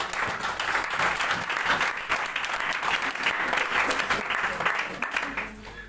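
A church congregation applauds during a worship service, a steady, dense wash of clapping from many hands that fills the space for several seconds before tapering off at the end.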